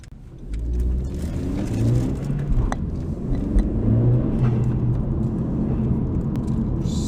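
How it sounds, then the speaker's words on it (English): A tuned 2017 Honda Civic 1.5 turbo engine revs and holds at a steady elevated drone with rev hang, close and loud, sustained without dropping back down. "the car doesn't just stop revving"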